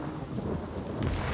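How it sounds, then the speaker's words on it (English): A magic rain spell in the video game Divinity: Original Sin, a dense rushing downpour with low rumbling, steady and fairly loud throughout a short burst. "Yeah, I can make it rain in here."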